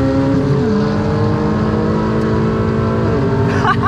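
A BMW M4 sports car passes close by, its loud, steady engine roar dominating and rising slightly in pitch as it goes past.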